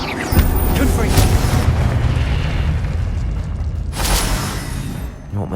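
Confringo blasting-curse explosions go off in Hogwarts Legacy: loud booming bursts near the start and again around the four-second mark, each trailing into a low rumble over continuous game noise.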